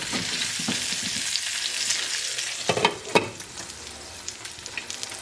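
Breaded chicken frying slowly in a little oil in a pan, a bright continuous hiss and sizzle close up, with a few soft knocks and stirring scrapes partway through and no talking.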